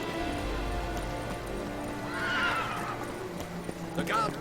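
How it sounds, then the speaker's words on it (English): A horse in the game Witcher 3: Blood and Wine neighs twice, a drawn-out whinny followed by a shorter one, over steady clip-clopping hooves, with someone talking over it. "Oye, el caballo."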